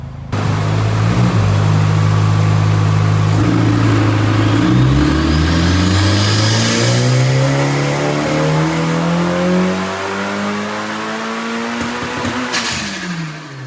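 A Honda Civic Type R FL5 on a dyno climbs through its gears at full throttle, the engine note rising loudly and steadily in repeated pulls before dropping off at the end of the run.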